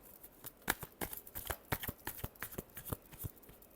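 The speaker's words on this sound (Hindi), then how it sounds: "last shuffle" Tarot cards being shuffled, a fast run of crisp riffles and soft slaps, close and fairly quiet, with no voices.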